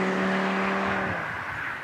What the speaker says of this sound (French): Et la sonorité de ce 5 cylindres est envoûtante.